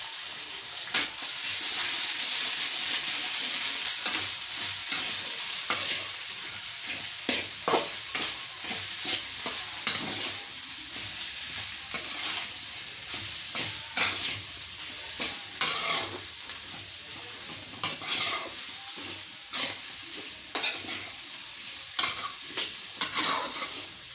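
Ginger garlic paste frying in a pan for noodles, a continuous close sizzle broken by repeated rhythmic scrapes and clacks of a spatula stirring the pan, no voices.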